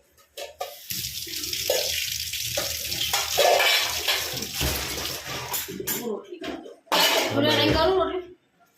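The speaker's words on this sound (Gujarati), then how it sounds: "આપણે હવે અહીંયા ચીકું ધોઈ નાખીએ" Chikoo (sapodilla) fruit being washed under running tap water in a kitchen, splashing and trickling in uneven bursts with a few clinks of a vessel, while someone talks over it.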